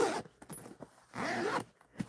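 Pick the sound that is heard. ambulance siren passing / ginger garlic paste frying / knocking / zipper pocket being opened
zipper pocket being opened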